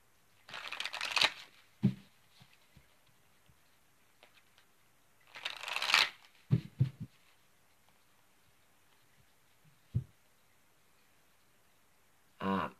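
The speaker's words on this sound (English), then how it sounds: "I'm going to shuffle up these cards" Cards shuffled in two riffling bursts separated by quiet, with a few soft taps and clacks as the deck is squared up.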